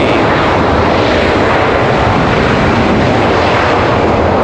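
An airliner arriving from Washington DC at Raleigh-Durham roars steadily and loudly close by, a dense continuous engine rush with no voices over it.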